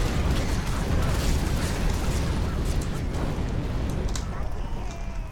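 A flamethrower spell fires in the video game Overlord: Raising Hell, giving a continuous loud roaring whoosh with crackling bursts that eases slightly near the end.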